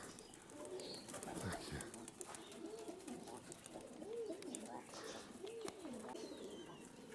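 Pigeons, including grey and speckled birds kept in a loft, coo repeatedly in soft rolling phrases over steady outdoor background noise, with several distinct coos spaced a second or so apart.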